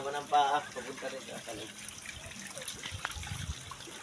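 Water runs steadily at a beach resort, a continuous trickling flow, with a person speaking briefly at the start.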